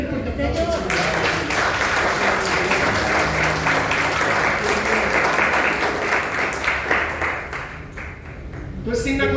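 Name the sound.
congregation applauding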